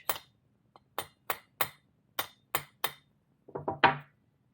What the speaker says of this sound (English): Did use the rubber end of my mallet just to make sure I don't ruin my finish.